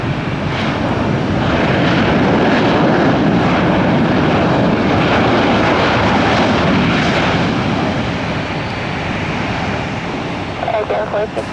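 Boeing 737 jet engines roaring loudly and steadily on the runway at Tampa airport, a continuous broadband rumble that eases slightly near the end, with tower radio chatter heard over it.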